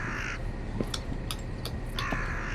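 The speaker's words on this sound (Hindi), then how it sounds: "भाले के ऊपर खोपड़ी फंसी और उसके ऊपर कौवा बैठा था।" A crow perched on a skull atop a spear caws in the Indian horror game Bhangarh: The Untold Story. Several sharp, fairly near caws come in quick bursts over a low, dark ambient drone.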